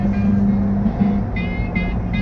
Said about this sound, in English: there's that there train that just went through Bayou Vista